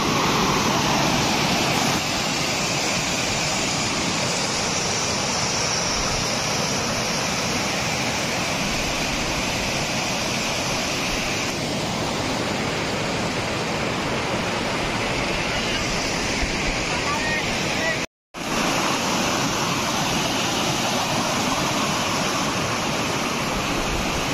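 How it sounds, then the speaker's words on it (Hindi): Punjisil waterfall in Odisha roars in a steady, powerful rush of falling water, close and loud, with a brief dropout near the end. "जलप्रपात केते मस्त है।"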